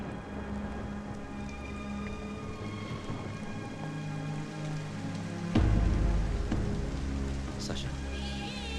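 Steady rain falls on surfaces, a dense hiss of drops with faint low rumbles beneath, and a heavier burst of sound partway through, mixed with a film soundtrack.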